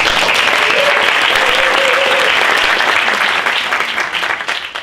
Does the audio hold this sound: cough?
no